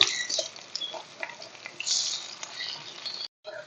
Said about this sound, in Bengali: এবারে আমি একটা একটা করে বড়াগুলো ভেজে নেব।